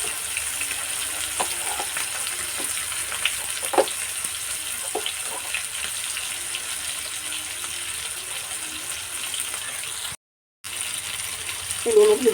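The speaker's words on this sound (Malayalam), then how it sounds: "എണ്ണ ചൂടായിട്ടുണ്ട് നമുക്ക് മീൻ എടുത്തു വെക്കാം ഇങ്ങനെ" Fish are laid into hot oil in a pan and fry with a steady sizzle, soft clinks of handling over the bubbling, then a short break before the frying resumes.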